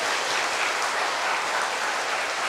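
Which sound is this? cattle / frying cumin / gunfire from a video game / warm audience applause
warm audience applause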